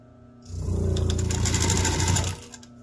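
Up close, a sewing machine stitches across a seam on a fabric wheelchair walker bag in one loud, steady burst of rapid whirring that lasts about two seconds, then stops.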